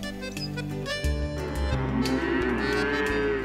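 Cattle low on open natural grazing land, a single deep, sustained moo swelling and wavering over a few seconds, close and clear with no talking.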